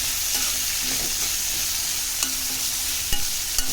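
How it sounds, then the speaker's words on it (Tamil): Radish sautés in a pan for sambar, giving a steady close sizzle of frying with occasional light stirring scrapes and clicks, and no voices. "முள்ளங்கி போட்டு நல்லா வதக்கி விட்டுக்கோங்க"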